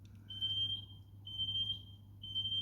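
A high-pitched electronic alarm beeps in long repeated tones, faint and distant, over a low steady hum.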